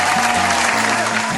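A short applause sound effect plays as a virtual clap in an English lesson, a dense uniform burst of clapping with a steady low tone running beneath it.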